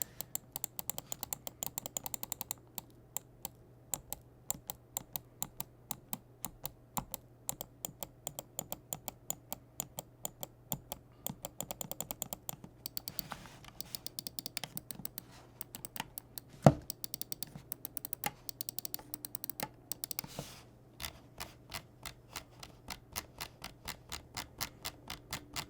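Clicks from a Zowie EC2-CW gaming mouse and its scroll wheel, a long run of sharp, quiet, close clicks, some in rapid rattling bursts and some spaced out, heard alone.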